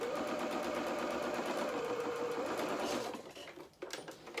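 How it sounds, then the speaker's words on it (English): A sewing machine stitches a dress seam in a steady, close whirring run for about three seconds, then slows and stops, with a brief reverse burst near the end. "there we have the first part of our dress being sewn together"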